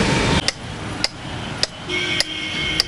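Hammer and chisel strikes carving stone, five sharp metallic blows spaced at an even rhythm about half a second apart, close and clear over a steady background hum, with no talking.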